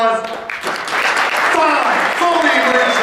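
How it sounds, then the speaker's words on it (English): Audience applause fills the clip, a dense steady clatter of clapping at a hypnosis show, with a voice talking over it near the start. "one more big round of applause"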